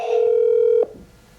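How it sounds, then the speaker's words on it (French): A single steady telephone ringing tone sounds for nearly a second and then cuts off abruptly, clear and close with no voices. "Ça sonne trop longtemps, là."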